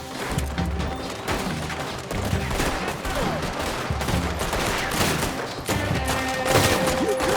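Rapid gunfire in Red Dead Redemption 2 crackles in dense, overlapping bursts of shots, loud and continuous, with a fusillade of rifle and pistol reports layered over a busy background.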